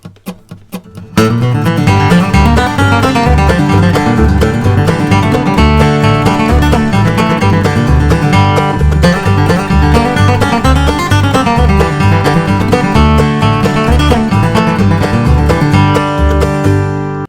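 Fast bluegrass flatpicked acoustic guitar lines over a tune, bright and continuous with a steady driving rhythm, played alone without any voices.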